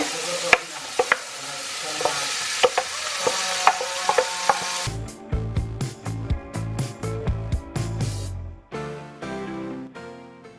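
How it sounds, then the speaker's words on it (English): Chopped celery and onions sizzle in a pan over medium heat while a utensil stirs them with repeated scraping clicks, and the frying grows louder and denser midway before easing off. "now we're going to cook these vegetables over about medium heat or so until they're softened"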